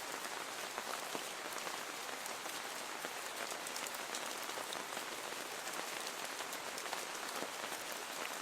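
Rain falls steadily, a dense, even patter of drops hitting a surface throughout, close and fairly loud with no voices.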